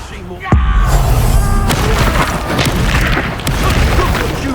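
A magic Expulso spell explodes in the Hogwarts Legacy video game: a sharp loud blast at the start rolls into a sustained, rumbling roar of debris and crackle, filling the rest of the clip.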